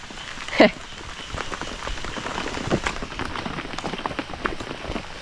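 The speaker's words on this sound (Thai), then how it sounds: "บรรยากาศฝนตก" Rain falls steadily as a soft, even hiss with scattered drops, and a brief sharp knock sounds early on; no one talks over it.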